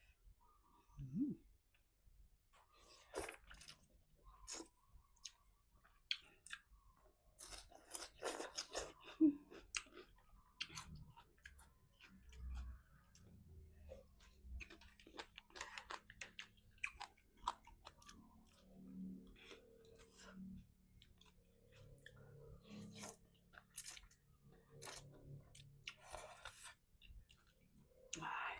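Close-up chewing and crunching of Thai som tam pounded with pickled field crab and tamarind juice, a steady run of wet clicks and crisp bites, with no talk over it.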